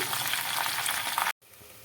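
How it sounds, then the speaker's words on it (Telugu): Steady, close sizzling of cashews frying in hot oil, with a brief cut to silence followed by softer sizzling. "జీడిపప్పు కూడా ఇందులోనే వేసుకొని గోల్డ్ కలర్ వచ్చే వరకు వేయించుకోవాలండి"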